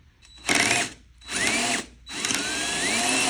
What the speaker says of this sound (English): So we'll just kind of drill it in there.